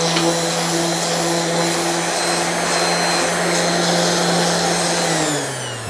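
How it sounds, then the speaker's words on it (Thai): An electric sander works a wooden cable organizer with a loud, steady motor whine and broadband grinding hiss that runs continuously, then winds down slightly at the end. "เดี๋ยวเราก็ขัดสักหน่อยนะครับวันนี้เอาเครื่องขัดคอมเชม่ามาออกคลิปด้วยครับ"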